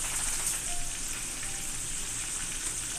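Marinade cooking in hot frying oil, a steady close sizzle and crackle with a bright hissing wash, continuous and even without any talking.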